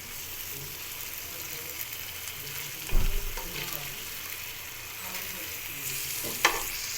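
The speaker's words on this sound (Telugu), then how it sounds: "అది ఆయిల్ వేసుకుంటూ ఫ్రై చేసుకోవాలి." Fish frying in oil in a pan, a strong continuous hiss and crackle with a couple of louder bursts as the pieces are moved or turned, close and without speech.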